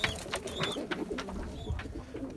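Tumbler pigeons kept for sale in Gebze, Turkey, coo in soft, repeated throaty calls from nearby, with rustling and other bird noise around them and no talk.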